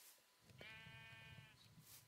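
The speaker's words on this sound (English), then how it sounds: "At least you're coming, Mr. Sheep." A sheep in the Minecraft video game lets out one sustained, wavering bleat lasting about a second, clear and close with no talking over it, followed by faint game sounds.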